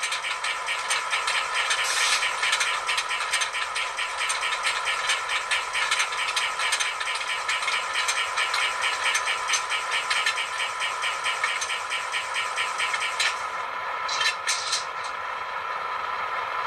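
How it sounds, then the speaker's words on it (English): An ESU LokSound handbrake effect on a ScaleTrains HO EMD SD7/SD9 model locomotive, heard as a steady ratcheting rattle over continuous diesel engine rumble, ending with a couple of brief sharp hisses. "F3's handbrake."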